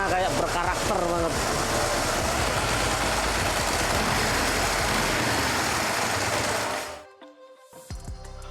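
A Ducati 999 motorcycle runs loud and close, its engine throbbing steadily with the dry clutch's metallic rattle for about seven seconds before cutting off abruptly, leaving faint clicks.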